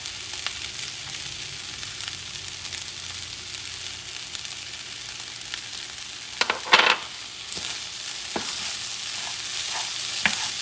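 Minced garlic frying over medium heat in a pan for chicken fried rice, with a steady sizzle and intermittent clatters of a spatula stirring, loudest midway through.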